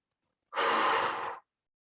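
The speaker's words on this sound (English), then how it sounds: "Inhale and exhale." A single long breath during seated chair yoga, a clear breathy rush lasting close to a second that rises and falls away on its own against silence.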